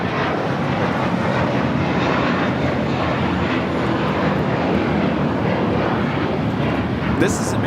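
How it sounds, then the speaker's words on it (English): An American Airlines A321 takes off from Los Angeles airport bound for Dallas-Fort Worth, a loud sustained jet roar filling the air, with voices talking over it. "2024 taking off to Dallas-Fort Worth on the A321"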